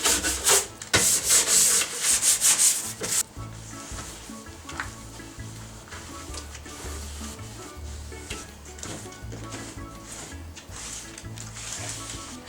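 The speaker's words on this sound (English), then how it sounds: "so I'm just going to go ahead and use the scrubber" A scrubber works over a dirty surface during household cleaning: a run of loud, fast rubbing strokes at first, then quieter irregular scrubbing and handling noises continuing close by.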